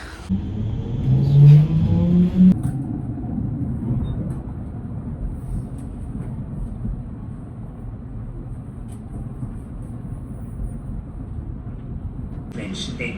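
A city tram in Austria pulls in to a stop with a rising electric motor whine that settles into a steady low rumble and hum, continuing for several seconds at close range.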